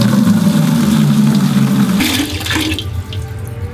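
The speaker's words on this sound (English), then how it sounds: "So turn on the water." Water gushes from a tap into a roughly 5-gallon pail in a steady, loud broadband rush that shifts in tone partway through as the pail fills.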